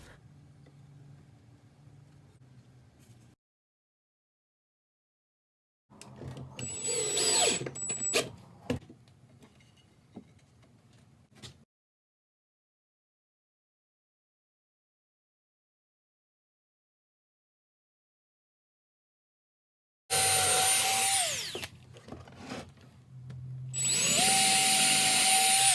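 A power drill drives screws into a wooden flip-top tool stand in two separate bursts of whirring and screw-driving, with a silent gap in between.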